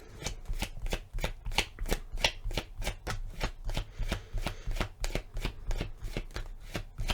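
Tarot cards being shuffled by hand, a rapid rhythmic riffle of crisp flicks repeating steadily, close and clear with no talk.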